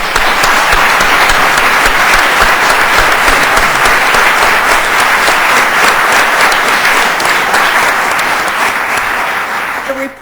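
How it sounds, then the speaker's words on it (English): A large audience at the State of the Judiciary address breaks into loud, continuous applause, a dense wash of many clapping hands that holds steady for about ten seconds before tapering off at the end. "I ask please for a round of applause for all of them"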